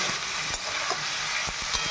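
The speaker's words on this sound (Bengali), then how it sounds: "মিডিয়াম আঁচে গ্যাসটা রেখে এটা ভাজতে হবে অনেকক্ষণ ধরে" Soybeans frying in a pan on a gas flame over medium heat, a continuous dense sizzle close by with occasional scraping stirs of a spatula, no talking.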